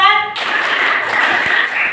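A classroom of children claps together in a brief, dense burst during a numbered clap chant, coming right after a short bit of an adult speaking.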